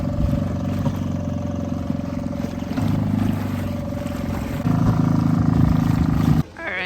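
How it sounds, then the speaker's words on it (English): A small dinghy outboard engine drones steadily close by, its pitch shifting a couple of times before cutting off abruptly near the end. "it's a tiny dinghy, and the engine sounds funny"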